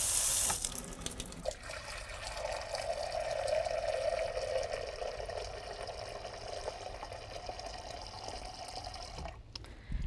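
Tap water pours steadily into a cooking pan, about 2.5 cups, a close continuous rushing flow that stops near the end.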